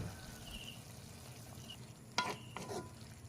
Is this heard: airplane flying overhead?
no